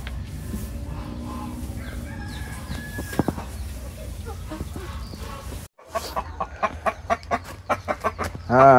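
Chickens cluck and squawk nearby in a busy, uneven chatter inside a coop on fresh new bedding, with rustling and handling noises throughout and a brief pause midway.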